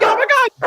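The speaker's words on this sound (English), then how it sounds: "We got the dogs back. I kept hearing dogs." Dogs barking in short yapping bursts, loud and close, with a brief pause before another bark near the end.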